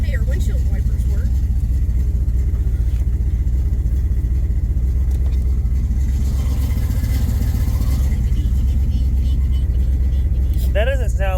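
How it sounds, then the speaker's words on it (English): A 1967 Camaro engine idling with a loud, steady low rumble that sounds uneven for eight cylinders, heard up close with some shuffling noise and a brief whistle-like squeal near the end. "That doesn't sound like 8 cylinders."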